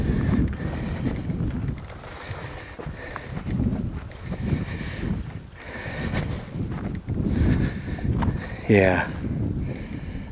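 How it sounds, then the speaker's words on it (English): Desert wind buffets the microphone in steady, loud rumbling gusts throughout, with a brief voice heard over it. "in the desert, you're going to get a lot of wind"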